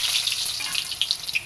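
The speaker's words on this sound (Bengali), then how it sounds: "তেল থেকে ধোয়া উঠছে, আমি আলুগুলো দিয়ে দেবো।" Cut potatoes hit smoking hot oil in a home kitchen pan, giving a loud, close, steady sizzling and crackling fry with bright popping spatters and no voices.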